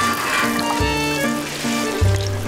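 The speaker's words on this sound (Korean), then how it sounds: "지글지글 기름에 튀기듯 구워내는 호떡입니다." Hotteok, sweet Korean pancakes, sizzle steadily in frying oil at a Seocheon five-day market stall, a continuous close crackle with a low electric hum beneath.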